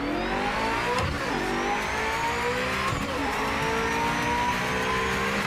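Race car engine in the Project Motor Racing video game, revving hard with rising and falling gear sweeps, loud and continuous with a brief tire squeal, no talking.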